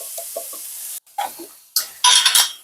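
A seasoned mixture with salt, black pepper, ginger, onion and garlic powder being stirred in a pan, several loud scraping bursts separated by brief pauses over a faint background hiss, close up.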